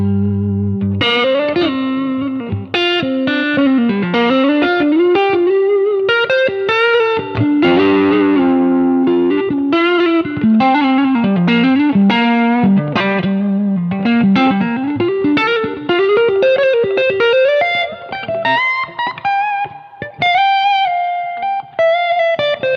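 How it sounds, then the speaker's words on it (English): A Stratocaster electric guitar runs through an overdrive pedal, playing a thick, singing, fluid lead line with bends and quick runs. Its tone is saturated with a little ambience, and it plays loud and alone. "Really nice, thick kind of singing overdrive, which works very nicely for the kind of sound that I'm going for"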